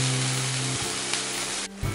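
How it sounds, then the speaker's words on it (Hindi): Green peas frying in a hot pan, a steady close sizzle running throughout, with a brief dip and shift near the end as the pan is moved or stirred. "अब इसमें ऐड करेंगे हम थोड़ी सी मटर और इसको एक मिनट के लिए फ्राई करेंगे"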